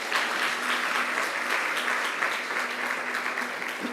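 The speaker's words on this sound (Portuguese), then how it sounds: "Dê um aplauso ao Senhor." Applause from a church congregation, a dense, steady wash of many hands clapping at close range, sustained evenly throughout with no break.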